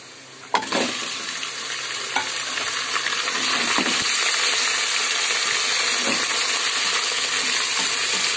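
Loud, steady sizzling of beef added to browned onions frying in a hot pan, with occasional clinks and scrapes of stirring over the constant hiss.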